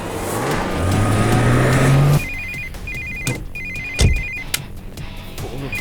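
A phone rings with a repeating electronic ringtone in a film action scene, fairly loud, over a background of engine rumble and traffic noise.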